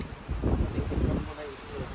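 Strong wind buffets the microphone in low, rumbling gusts during a snowy storm in South Korea, with faint indistinct sounds in the background.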